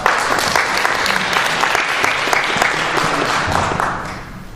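Steady, dense applause from a conference audience at a fire investigation event, loud and continuous for several seconds before tapering slightly at the end.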